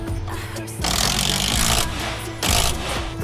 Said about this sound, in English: I just need to tighten this one.